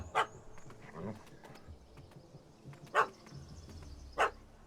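Dog barking in The Witcher 3: Hearts of Stone, three sharp separate barks spaced a second or more apart over a low game background rumble.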